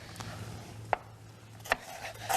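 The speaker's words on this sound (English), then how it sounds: "we're gonna chop this up right here" A knife chops through an onion on a cutting board while making a black bean, corn and quinoa salad: three sharp, separate chops, close and crisp, in an otherwise quiet kitchen.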